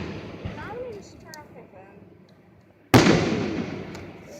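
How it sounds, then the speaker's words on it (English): Fireworks go off outdoors: a loud sudden burst lands near the end after quieter crackle and distant pops, with a couple of people talking beforehand. "Just watch the fireworks."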